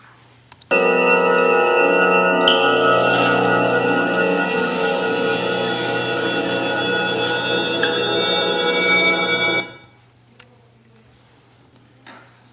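Layered paranormal trailer sound effects stack into a haunting blend: a loud, dense wall of drones, ringing tones and shimmering high textures that swells for about nine seconds, then cuts off to near silence.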